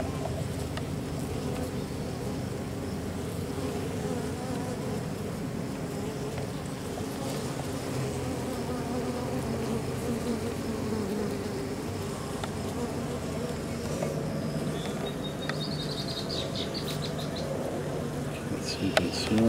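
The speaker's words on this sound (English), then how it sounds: "The bees are now underneath here." A dense, steady hum of many honey bees buzzing close by, continuous throughout with slight swells, with brief murmured speech underneath.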